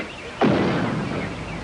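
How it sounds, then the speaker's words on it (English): A cannon fires as a game sound effect in I Spy Treasure Hunt: one sudden booming blast with a long rumbling decay, alone without speech. "A cannon."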